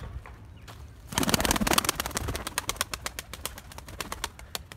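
A male white tumbler pigeon calls close by, producing a quick run of repeated pulsing notes that starts suddenly and keeps a steady, rapid rhythm.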